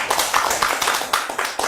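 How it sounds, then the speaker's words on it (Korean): Church congregation clapping in welcome, a short burst of brisk, fairly close handclaps from a group. "우리 선생님도 또 환영하는 박수 한번 좀 부탁드립니다"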